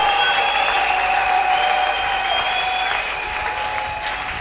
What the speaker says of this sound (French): Acclamez pour Jésus-Christ très fort.